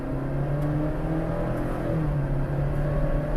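A rental Jeep Gladiator or Ford Explorer accelerates hard in a full-throttle pull, the engine note rising steadily in pitch as a continuous droning whir heard from inside the vehicle.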